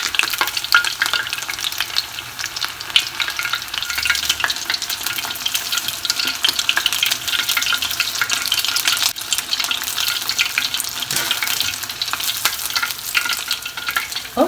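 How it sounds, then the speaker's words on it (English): Tempura deep-fries in hot oil with a loud, continuous crackling sizzle close up, busy with fine pops and bubbling throughout and no voices. "Deep fry until they get golden brown color"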